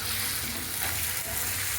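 Onions and ginger-garlic paste sizzling in hot oil for pav bhaji, a loud, dense crackle running continuously without pause, close up and with no talking.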